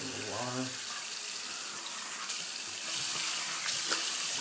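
Hot water streams steadily from a tap into a sink, a continuous close hiss with a brief voice-like tone at the start.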